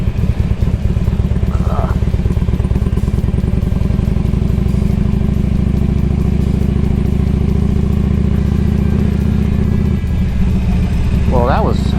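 A 20-year-old Harley motorcycle rides a rough dirt road on the Alaska Highway, its engine droning loud and steady throughout with rattling clatter and wind, a voice briefly heard near the end.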